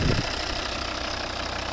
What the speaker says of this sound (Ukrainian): Двигун.